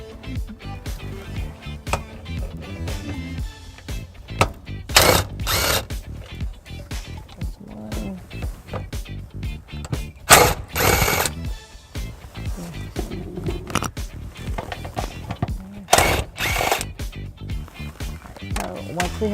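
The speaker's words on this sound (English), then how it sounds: "we are going to be removing the 3 10mm bolts that are going to be on this paneling" A power tool removes 10mm bolts from a trim panel on a 2017 Ford Focus, with several short loud bursts of whirring and rattling separated by handling noise, while someone talks throughout.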